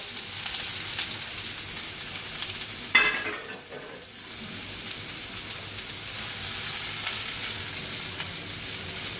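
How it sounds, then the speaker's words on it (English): Sauteed vegetables sizzle steadily in a hot pan, with a constant crackling hiss and a brief stir or scrape partway through. "we're going to put our veggies, our sauteed veggies, in another pan and get those going"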